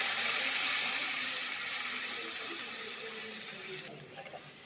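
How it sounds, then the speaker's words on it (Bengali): Hot water is poured into a pan of fried curry spices for a thin fish curry with potato and aubergine: a loud, steady rushing pour close by that gradually weakens and then stops near the end. "দিয়ে দেবো এখানে গরম জল"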